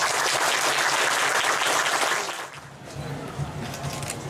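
Loud, dense crowd applause fills a church groundbreaking ceremony for a new multipurpose building, dipping briefly then continuing at a softer, steady level.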